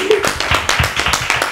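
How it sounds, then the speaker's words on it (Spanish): A few people clap in short uneven bursts, fairly close, with a voice briefly heard at the start. "Eso se merece un aplauso"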